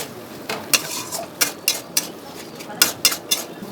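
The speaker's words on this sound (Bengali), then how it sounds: "এবার ভালো করে নাড়াচাড়া করব।" Chicken curry masala with tomato sauce is stirred in a pan, with a spoon knocking and scraping the metal in an uneven rhythm of close, clattering strokes over a faint background.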